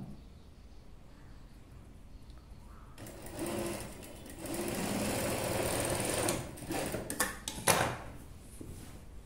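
A sewing machine stitches a boat neck dress, starting after a few quiet seconds and whirring steadily up close, with brief pauses and clicks of fabric handling toward the end.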